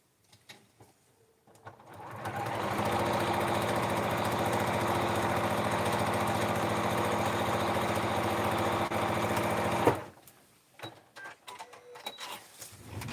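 A sewing machine stitches together matched edges of tiny quilt block pieces, running in one steady, continuous mechanical hum for about seven seconds before stopping abruptly, with light handling noises around it.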